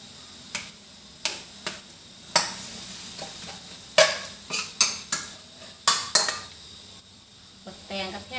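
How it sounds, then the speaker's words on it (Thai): Pork is stir-fried with cucumber, carrot, tomato and onion in a pan, with irregular sharp clanks and scrapes of a utensil against the pan over a low, steady sizzle. "ผัดบักแตงให้สุกก่อนเพื่อจะใส่มะเขือเทศแล้วจ้ะ"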